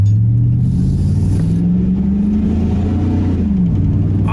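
A tuned truck with its catalytic converters still fitted revs up and settles back, a deep, steady rumble close by that stays fairly subdued throughout, with no one speaking.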